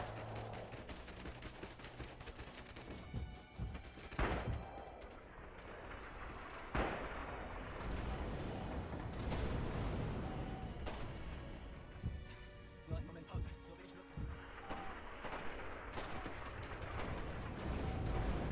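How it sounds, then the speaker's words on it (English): In Heroes of the West, a multiplayer battle on Hill 400 brings repeated artillery booms and scattered gunfire, moderately distant and fairly quiet, rolling on through the whole stretch. "Was artillery supposed to be this far back, whilst the first salvo is that far forward?"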